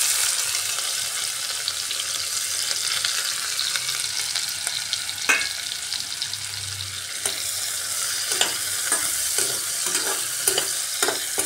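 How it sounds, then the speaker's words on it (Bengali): Chopped onion sizzles in a shallow layer of oil, a steady bright hiss with a few stirring scrapes and clicks toward the end, close and fairly loud with no talking. "এবার এই তেলের মধ্যেই আমি দিয়ে দিচ্ছি কুচিয়ে রাখা পেঁয়াজ।"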